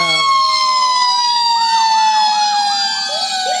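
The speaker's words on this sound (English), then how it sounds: "Wayne Township Volunteer Fire Department. You guys, your sirens broke?" A Wayne Township Volunteer Fire Department fire truck siren wails loud and near during a Christmas parade, with sweeping rising and falling tones sustained throughout.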